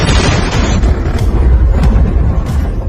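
A film's car bomb of roughly 220 pounds of C4 detonates in a city centre near a presidential office building, giving a loud, sustained low rumbling roar with scattered bursts of debris crackle throughout.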